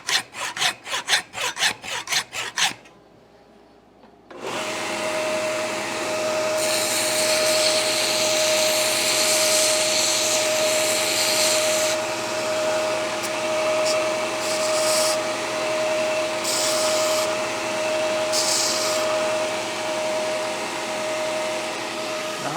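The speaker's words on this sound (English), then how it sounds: "I could use a new hacksaw blade, I'm guessing." A hacksaw with a worn blade cutting metal, heard as a rapid burst of close rasping strokes, then a pause, followed by a long steady whirring machine-like drone with a constant hum.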